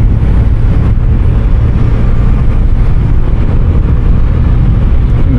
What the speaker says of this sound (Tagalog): Grabe ka relax ng motor na ito.